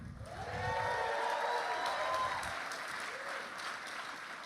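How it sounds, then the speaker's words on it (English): A crowd applauds an event team at a conference, with steady, full clapping and some cheering held throughout at an even level, and a few faint voices mixed in. "will you guys give a round of applause for Brent and his team right now?"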